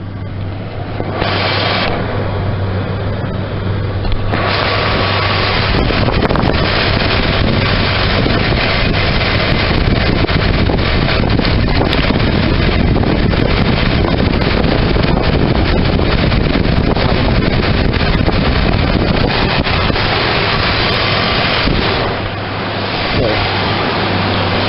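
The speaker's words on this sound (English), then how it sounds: "I have a miss on cylinder 4." A car engine runs steadily with a misfire on cylinder 4, its rough drone partly buried under heavy wind noise on the microphone for the whole stretch.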